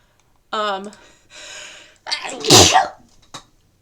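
A single loud, close sneeze with a sharp gasping intake leading into the explosive burst, followed by a faint breath.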